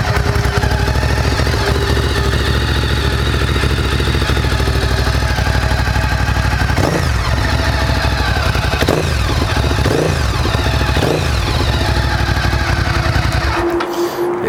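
A 2007 Ducati GT1000 cafe racer with Termignoni exhausts idling, a loud, steady, lumpy twin-cylinder rumble with a few brief blips of the throttle, heard up close before the engine cuts at the end.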